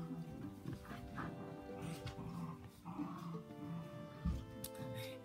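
Young dogs growl and grumble softly while playing, low rumbling vocalizations with small yips, close and faint, amid a quiet indoor setting with light background noise.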